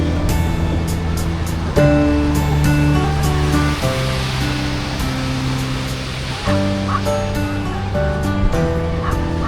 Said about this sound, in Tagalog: Gulat ako sa aso.